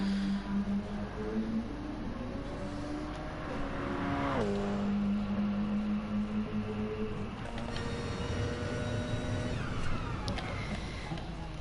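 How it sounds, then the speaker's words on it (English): A Porsche 919 Hybrid race car in a racing video game, a steady high engine drone with rising gear pitches and a sharp shift, continuous throughout with faint commentary-like voices underneath. "Yeah, the Porsche 919 hybrid."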